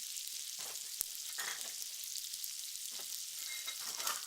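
Apples sizzle and brown in a hot pan for a burger topping, a steady bright frying hiss with occasional louder crackles and pops, close and continuous, no voices.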